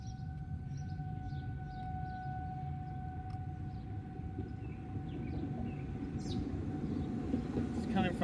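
City and park outdoor tornado warning siren heard during a siren test in Grosse Pointe, Michigan: a steady two-tone wail held throughout, distant and even over low wind and rumble, with faint speech in the background.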